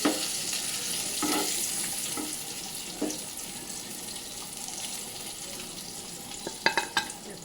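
Brinjal slices fry in oil with a continuous, moderate sizzle, broken by a few light scrapes and clinks of a utensil, louder taps near the end.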